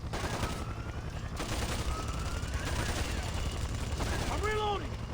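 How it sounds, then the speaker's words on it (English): Rapid automatic gunfire rattles in steady bursts during a firefight in the stealth-action game Splinter Cell: Conviction, loud and continuous, with shouted voices over the shooting and a brief descending electronic warble near the end. "Request permission to start shooting, sir! Permission granted. There he is! Light him up!"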